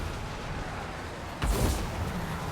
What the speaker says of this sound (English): Was that a bomb getting thrown at him?